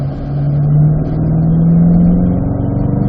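A race car accelerates out of a corner at Spring Mountain, its engine note loud and close as it climbs steadily in pitch for about three seconds with no voices over it.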